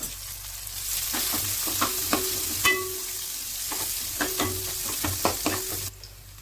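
Cumin seeds, a sprig of curry leaves and two medium onions fry in hot oil, a steady sizzle broken by sharp clicks and scrapes of a spoon stirring the pan at irregular intervals.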